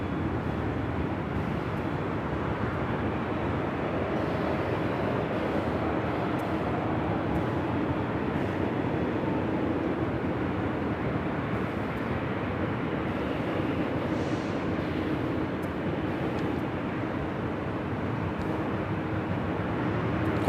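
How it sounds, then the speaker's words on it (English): A 16-year-old Qantas A380 Super arriving at LAX from Sydney: a steady, moderately loud broadband jet roar that holds evenly throughout, heard from a distance with no talk. "Qantas Flight 11 making a north side appearance here today, coming in from Sydney, Australia, the 16-year-old A380 Super."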